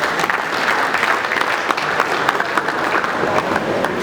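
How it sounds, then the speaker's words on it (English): Conference audience applause, a sustained crowd of many hands clapping at an even roar for several seconds, heard from within the hall. "Please, once again, give a big round of applause."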